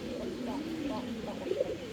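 A pair of exhibition-quality pigeons coos softly and repeatedly, a low, faint murmur at close range with speech mixed in.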